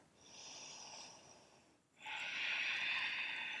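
Slow, deep breaths during a gentle morning yoga practice, an airy exhale fading over about two seconds, a brief pause, then a fuller, louder breath sustained to the end, close and alone without talk.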